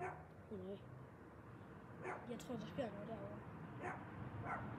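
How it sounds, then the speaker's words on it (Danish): A dog barks and whimpers faintly in the distance, with short yelps and whines scattered through the clip, while people talk quietly in Danish. "Måske det er en hund, der kalder på hjælp."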